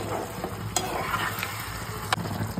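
Chilli chicken being mixed in a pan, a steady close sizzle of frying with occasional sharp scrapes of the spoon against the metal.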